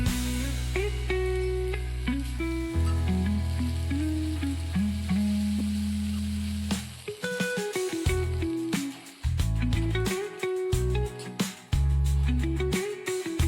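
Green chilli strips sizzle in a hot oil tempering for veg Manchurian, a loud close frying hiss with stirring noises running under a melodic musical backing, no one speaking.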